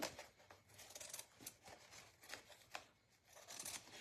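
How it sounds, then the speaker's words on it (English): Scissors snip along the edge of a handmade Christmas snowman hat, a quiet series of close, crisp cuts in an uneven rhythm, heard alone with no talk. "I'm just going to cut right along the edge here, just like this."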